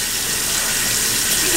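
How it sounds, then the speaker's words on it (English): Cold water runs steadily from a tap over a placenta being rinsed in a sink, a loud, close, continuous gushing stream with no pauses. "So now you're supposed to just rinse it out until the water runs clear. Running in cold water, of course."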